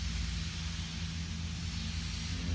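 A Champion 7 ton log splitter engine running steadily, a loud, even low drone that holds without a break and has no talk over it.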